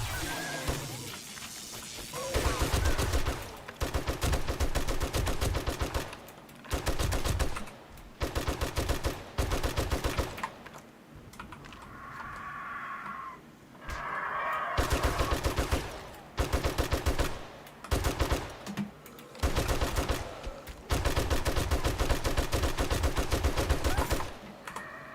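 Gunfire in the zombie survival game 7 Days to Die, loud rapid automatic bursts repeated across the stretch with brief pauses between volleys and a quieter gap in the middle.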